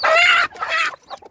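Hens on a crowded hen farm cluck loudly and close by in two drawn-out bursts, followed by softer, scattered clucks.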